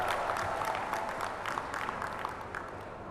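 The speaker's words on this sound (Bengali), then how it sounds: "তাদের জন্য জোরে একটা হাততালি দিয়ে আমরা তাদেরকে অভিনন্দন জানাচ্ছি" A crowd at a university event in Chittagong applauds students, a dense, steady clapping that holds for a few seconds at moderate level and slowly fades slightly.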